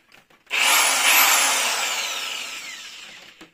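An electric drill spins a small disc welded onto an axle, a loud whirring spin-up that sweeps in pitch and then slowly winds down over about three seconds, heard alone.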